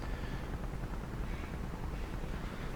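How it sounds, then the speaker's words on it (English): A BMW radial engine of an FW-190 fighter running in Microsoft Flight Simulator 2020, a loud, steady, rough low-pitched drone with no breaks. "there we have good start on that lovely BMW engine"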